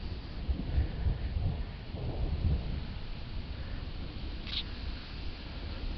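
Low rumbling thunder from an approaching thunderstorm in Bathurst, New Brunswick, rolling in soft swells at a distance with faint rain-like hiss beneath and one brief higher chirp.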